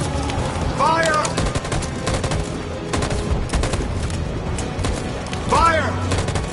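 A volley of gunfire rings out in Detroit: Become Human, a rapid, sustained crackle of shots at a steady loud level, with voices and brief tonal game sounds mixed in.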